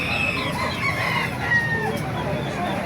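Roosters at a chicken market in Baliuag crow and cluck continuously over a busy background murmur, several birds calling at moderate distance.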